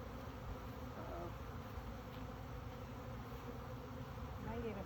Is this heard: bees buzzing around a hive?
yes